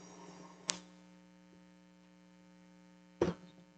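A stand mixer runs on low speed mixing salt and flour, giving a steady tonal motor hum. Two sharp clicks or knocks stand out above it, near and fairly quiet overall.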